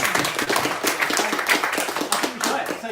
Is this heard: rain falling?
no